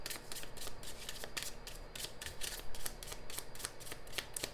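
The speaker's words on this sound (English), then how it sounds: "Let's just keep on shuffling." Oracle cards being shuffled by hand in a quiet room, a soft, steady run of rapid riffling flicks and slides repeating in quick bursts, close and fairly faint.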